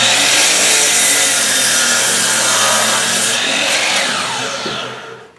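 A miter saw cuts across wood to square the end of a workpiece, a loud steady whining saw noise running nearly the whole time before tapering off as the blade winds down.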